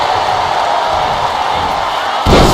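A WWE 2K25 wrestling game crowd roars in a loud, continuous wash of cheering, with a sharp surge and thud near the end.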